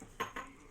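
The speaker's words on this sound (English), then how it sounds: "I'm going to stir and stir and stir and stir." A spoon or stirrer clinks twice in quick succession against a container while a leave-in hair conditioner mixture of glycerin and water is stirred. The clinks are faint and short, with quiet room sound around them.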